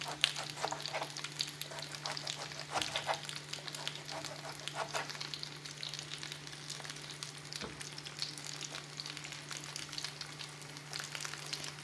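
Chopped onion frying in a pan in a home kitchen, giving a steady, soft sizzle with occasional stirring scrapes over a constant low hum.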